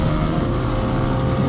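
A motorbike engine idles in a steady low rumble on a silent, cold night as the rider sits on the bike, the drone continuous and fairly close with no other sounds.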